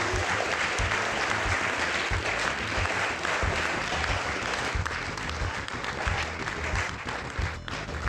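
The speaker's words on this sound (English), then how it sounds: "if we can get one last massive round of applause for our racers, Toufool, Oxworth," A massive round of applause from a live crowd at a speedrunning marathon for the racers of a Diddy Kong Racing race, loud, continuous clapping and cheering that holds steady for the whole stretch with a low rumble beneath.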